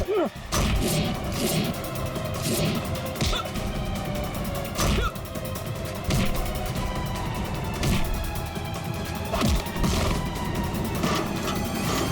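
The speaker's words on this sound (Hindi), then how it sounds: "गन चलाने से पहले गन का सेफ्टी लॉक तो खोल ले।" Gunfire in a crime drama scene, repeated loud close shots and bangs spaced irregularly throughout, with crashing impacts between them.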